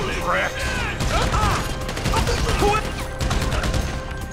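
Rapid gunfire bursts in Grand Theft Auto V during a heist mission, loud and repeated in clusters, mixed with game effects and a shouting player's voice.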